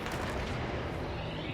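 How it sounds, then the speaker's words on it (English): A cannon fires in the video game Destiny 2, a loud, heavy, continuous blast of rumbling noise lasting under two seconds with no voice over it. "I haven't used this cannon yet, so I'm going to go ahead and just launch it immediately."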